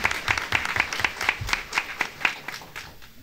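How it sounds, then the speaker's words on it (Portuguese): Audience applause at a public hearing of a legislative committee on public servants, heard as a moderate group clapping with a distinct, fairly regular beat before tapering off. "Salva de palmas aí para a deputada Marta Rocha"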